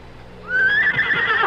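Horse neighing as a radio drama sound effect, a single loud rising whinny that swells after a quiet start and shakes at its peak, close and alone.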